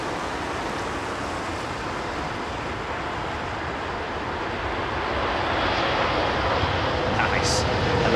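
Emirates Airbus A380 airliner approaching London Heathrow Airport on a wintry night, a broad distant roar that swells gradually louder toward the end, over steady outdoor background noise.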